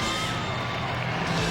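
A capacity crowd of over 21,000 at a Christmas night NBA game between the Chicago Bulls and Detroit Pistons in Chicago roars with steady, dense cheering and shouting that fills the arena, loud and continuous throughout.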